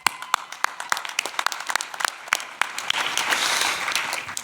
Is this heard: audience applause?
yes